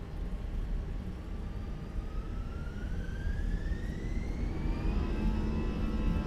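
An airplane engine in Microsoft Flight Simulator 2020 drones with a deep, steady rumble while a whining tone rises slowly in pitch as the aircraft builds speed for takeoff.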